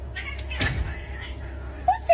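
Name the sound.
kitten meowing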